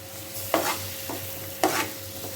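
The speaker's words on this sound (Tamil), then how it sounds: "இப்படி நல்லா கிண்டி இதை வந்து நல்லா முட்டை பொரியல் பக்குவத்துக்கு எடுத்துகிட்டு வந்துடணும்" Eggs scrambling and frying in a pan for chicken fried rice, with two distinct scraping stirs of a spatula over a steady soft sizzle and a faint constant hum, heard close with no talking.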